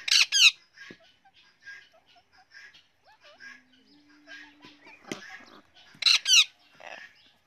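Harsh parrot squawks burst out loudly at the start and again near the end, each a quick cluster of raspy calls, with quieter chirps and whistles scattered between them.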